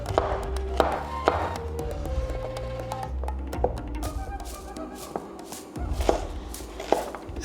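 A knife chops carrots into chunks on a board in sharp, irregular knocks, close and clear, with small pauses between bursts of strokes.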